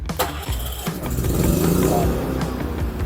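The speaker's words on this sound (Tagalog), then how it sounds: "Pwede rin po siyang push button starter o sa pamamagitan ng pagpindot lang, aandar na po siya." Portable generator engine started by push button for use during a storm power outage, catching and settling into a steady, loud running drone close by, with no talk over it.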